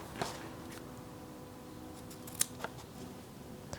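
Scissors snip the tails of a ribbon bow on a paper craft treat box, giving a few crisp, close cuts with short pauses between them over a quiet room.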